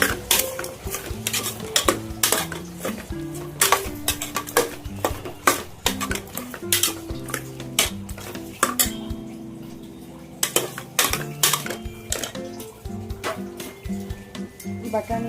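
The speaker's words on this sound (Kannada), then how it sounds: "ಮತ್ತು ನಾನು ಹೆಚ್ಚಿರ ಹೆಚ್ಚಿಟ್ಕೊಂಡಿರೋ ಅಂತ ವೆಜಿಟೇಬಲ್ಸ್ನ ಹಾಕೋಣ ನೀಟಾಗಿ ಮಿಕ್ಸ್ ಮಾಡಿ" Chopped vegetables for a wedding-style vegetable pulao are mixed in a pot. A metal spoon repeatedly clanks and scrapes against the sides in a steady, busy rhythm, and a voice talks alongside it.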